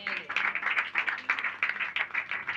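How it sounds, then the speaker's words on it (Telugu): Audience members at a church sermon clap in quick, steady, rhythmic beats, moderately faint across the whole stretch. "చప్పట్లు కొట్టాలా?"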